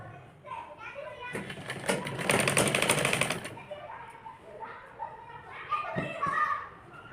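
A sewing machine stitching a frilled umbrella-cut top whirs in a steady burst of about two seconds, with quieter handling noises before and after while someone talks softly nearby.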